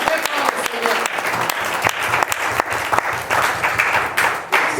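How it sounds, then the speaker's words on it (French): A church congregation applauds loudly, a dense, energetic roar of clapping with sharp individual claps standing out, continuing throughout without pause. "On acclame très fort au Seigneur."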